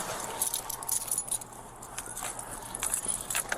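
Keys jangle continuously, a bright metallic clinking and rattling held close, over a faint low hum.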